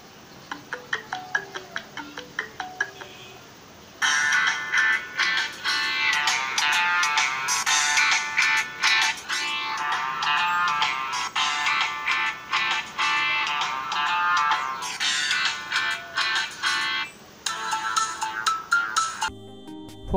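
A Qmobile Noir LT700 Pro phone plays a ringtone through its own loudspeaker, opening with sparse plucked notes and then a loud, sustained melody that continues with brief pauses, close to the microphone and without speech.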